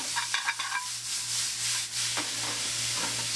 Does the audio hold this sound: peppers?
yes